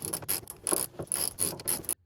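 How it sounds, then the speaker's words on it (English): Ratchet wrench clicking in quick bursts while backing out bolts on a Triumph Roadster fuel tank, close and crisp, several short ratcheting runs separated by brief pauses, no talk. "So I'm going to start by removing the 4 bolts."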